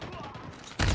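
A sudden loud burst of gunfire in the Call of Duty Mobile video game erupts near the end, close and harsh after a stretch of quieter game noise.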